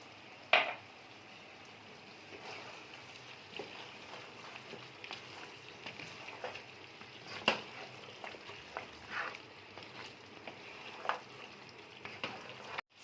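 Mutton gravy with spices is stirred in a pan, a low frying sizzle under a series of scraping and tapping strokes from the spoon, with a sharp knock near the start.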